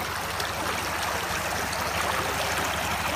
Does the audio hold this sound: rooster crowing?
no